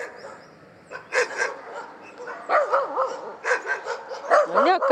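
A pack of stray dogs barks nearby in repeated sharp bursts, mixed with higher yips and whining, growing more frequent and louder toward the end.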